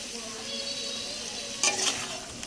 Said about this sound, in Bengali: তেলটা ছেড়ে দিয়েছি এবার আমি পটলের দরমাগুলো দিয়ে দেব